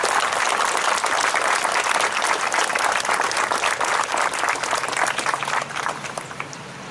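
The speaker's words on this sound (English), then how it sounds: "Let's please acknowledge our JROTC program students with a round of applause." A crowd at a 2019 Memorial Day parade program in Connellsville, Pennsylvania applauds JROTC students with steady, dense clapping that stays loud throughout and eases slightly at the end.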